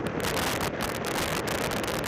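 A very strong wind on the Bibione beach front stirs the water and the surrounding trees, a loud, continuous roar of gusts buffeting the microphone with no voices.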